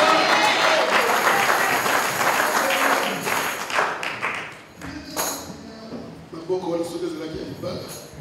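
A church congregation applauding: dense, loud clapping for about four seconds that fades as a preacher resumes speaking.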